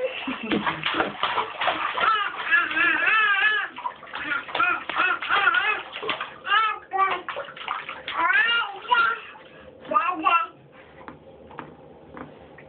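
A small child splashing in a bathtub, with intermittent sloshing and slapping of water close up, mixed with a young child's babbling and adult voices talking throughout.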